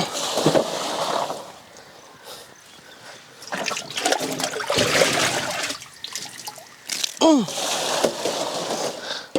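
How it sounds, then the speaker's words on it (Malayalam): Water is poured into a homemade sand and charcoal filter, splashing and gurgling in uneven bursts, then trickling and dribbling through the layers. "നമുക്ക് കുറച്ച് വെള്ളം കൂടെ ഒഴിച്ച് നോക്കാം"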